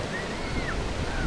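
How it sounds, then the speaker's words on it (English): Ocean surf at Stinson Beach rushes in a steady, broad wash of waves with wind buffeting the microphone, and a faint tonal whistle glides over the roar; no one speaks. "here we are at Stinson Beach"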